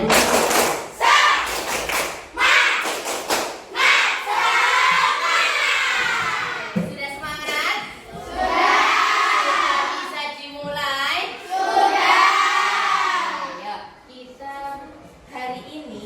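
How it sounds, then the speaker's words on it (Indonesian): A class of schoolchildren performs a rhythmic clapping chant in a classroom, sharp group claps alternating with loud chanted and shouted voices in unison, lively and close. "Tepuk semangat."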